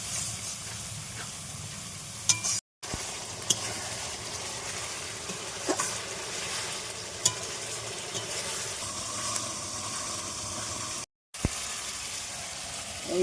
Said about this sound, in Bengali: মাংস দিয়ে দেব। ভালো করে নাড়িয়ে বাজিয়ে নেব।